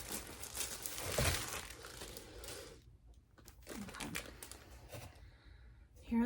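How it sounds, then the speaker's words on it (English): Wrapping paper crinkles and rustles as it is handled up close, with a loud burst early on, then quieter scattered crackles and a little faint background speech. "with the really cute wrapping paper"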